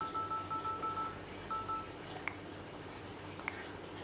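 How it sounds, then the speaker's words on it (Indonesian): Samsung phone system sounds with vibration mode on: a series of quick soft tones and buzzing taps in a rapid run, then two sharper isolated clicks, all faint and close. "Berikut adalah contoh jika mode getar dan suara sistemnya aktif."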